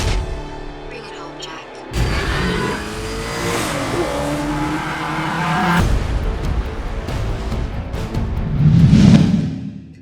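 Racing cars from the arcade driving game Need for Speed The Run rev hard and accelerate, with engine roars rising and falling and a burst of tire squeal near the end.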